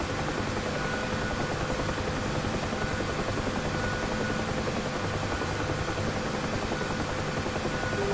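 UH-1H Huey helicopter in the DCS flight simulator holding a steady hover, its engine and rotor roar forming a loud, continuous, unbroken drone throughout.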